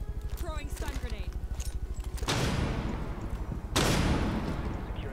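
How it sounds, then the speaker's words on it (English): In the tactical shooter Rainbow Six, a stun grenade goes off in two sharp, loud bursts, each with a hissing, ringing tail, after rapid rhythmic gunfire and clattering at the start. "Throwing stun grenade."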